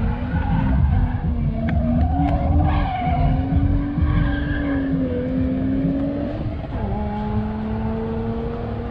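Cars drift at Memphis International Raceway during a drifting and drag racing event. Loud, sustained tire squeal wavers in pitch over a rough engine roar and rises again near the end.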